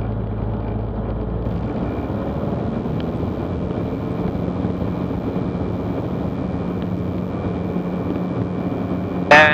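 A Zenith CH 750 Cruzer light aircraft taking off, a steady, loud engine drone with wind rush heard from inside the cabin, unchanging for several seconds, ending in a brief sharp sound.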